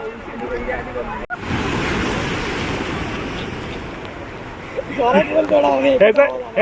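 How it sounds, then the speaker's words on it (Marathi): Ocean waves breaking and washing along the seawall at Marine Drive in Mumbai during the first monsoon rain, a steady surf roar with wind buffeting, and people chattering over it toward the end. "ही लाट येते का मोठी लाट येते आपल्यासमोर"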